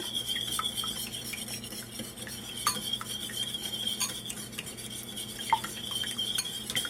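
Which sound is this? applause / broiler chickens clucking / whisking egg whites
whisking egg whites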